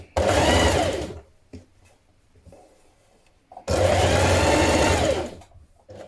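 A sewing machine stitches a seam to the facing around the neckline of a kaftan dress, heard in two loud sustained runs of whirring motor with a quiet pause between them.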